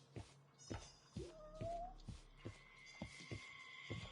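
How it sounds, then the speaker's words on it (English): A cat meowing inside a video game, several faint rising meows spaced among soft thumps and ambient game sounds, with a quiet voice underneath. "Look, man, there's a cat in here."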